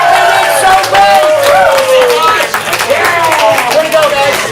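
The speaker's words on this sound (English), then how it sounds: "everybody give them a big cheer!" An audience at a ComedySportz improv comedy show cheering loudly and clapping for the blue team, a dense, close roar of excited voices and applause that holds steady throughout.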